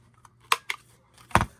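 Scissors snip through paper being trimmed for decoupage, three or four short sharp cuts spaced unevenly, close and fairly quiet against a near-silent room.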